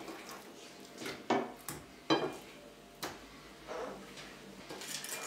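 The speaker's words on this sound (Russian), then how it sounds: "уложим в нее" Pieces of raw chicken set into a cooking pot, giving a few soft thuds and light clinks against the metal, with faint handling noise in between in a quiet kitchen.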